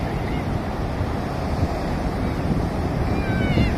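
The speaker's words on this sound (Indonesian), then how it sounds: "Wow, ombaknya makin besar." Heavy ocean surf at Shek O beach, Hong Kong, rolls in as a steady, loud wash of breaking waves with gusty wind across the microphone throughout.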